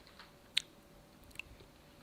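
Crunchy Dollar Tree Doritos-style tortilla chips being chewed close up, two quiet crisp crunches over a faint background hum, with no talking.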